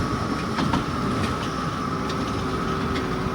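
An electric vehicle running on a 72-volt LiFePO4 lithium battery climbs a ramp in straight gear, its motor giving a constant close whine over a steady rumbling drone with faint rattles.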